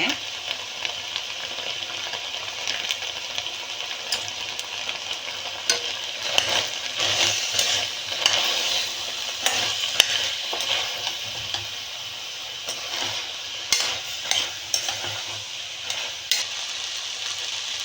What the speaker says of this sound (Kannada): ಒಂದೆರಡು ನಿಮಿಷ ಈ ಥರ ಆಯಿಲ್ನಲ್ಲೇ ಫ್ರೈ ಮಾಡ್ಕೋಬೇಕು ಎಲ್ಲದನ್ನೂ